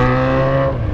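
A Jaguar XJ's engine hums loud and close in a steady, tonal drone that holds for about a second before easing off slightly.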